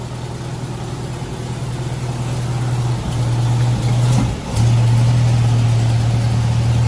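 A 1927 car's engine runs steadily at close range, a low droning hum with a brief dip and rough patch midway before settling back into an even note.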